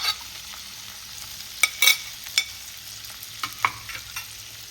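Green and red capsicum is stir-fried with garlic for shrimp, giving a soft, steady sizzle broken by a few sharp scrapes and clinks of a spatula against the pan, with no voices.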